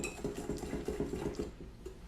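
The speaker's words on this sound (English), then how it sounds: "So now we're just gonna whisk this until it's nice and smooth." Whisking a mixture of milk, egg yolk, flour and sugar, a quick rhythmic clatter of whisk against the bowl, close and fairly quiet, with no voices.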